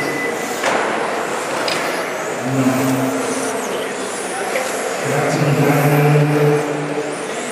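Stock car race cars launch into a final heat at a Hrotovice track, with engines roaring and revving in overlapping bursts at mid distance while a commentator speaks over them.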